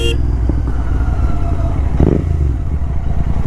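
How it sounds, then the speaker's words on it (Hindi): A Royal Enfield GT 650 fitted with a Red Rooster exhaust idles and blips, a loud close throaty rumble with a quick rev swell and a few light pops and crackles from the pipes; no speech. "ये हल्के फुल्के क्रैकल्स तो आ रहे हैं"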